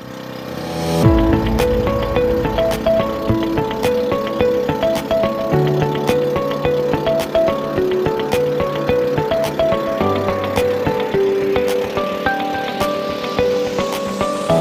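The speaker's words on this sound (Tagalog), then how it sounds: "paandar na tayo ng makina." A motor on a traditional fishing boat used for handline skipjack tuna fishing sputters into life after a brief pull, then settles into a fast, steady, close putter that runs evenly to the end, with no talk.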